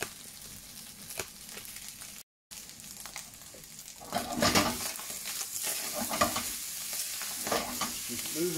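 Prawn fried rice stir-fried in a pan, with a steady sizzle under scraping and tossing that becomes louder and denser midway, the near clatter of stirring continuing to the end.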